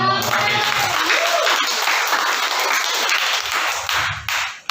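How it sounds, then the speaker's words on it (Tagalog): A church congregation breaks into applause during a sermon, a full, even burst of clapping with some voices mixed in, fading out toward the end. "palakpak naman mga kapatid"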